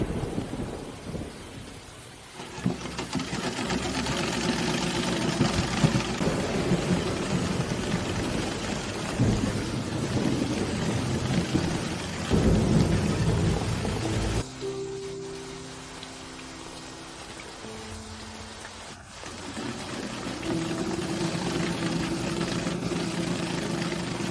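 Steady night rain pours down with rolling thunder, loud and continuous, the storm rumbling heavily throughout with a brief dip midway before the downpour swells again.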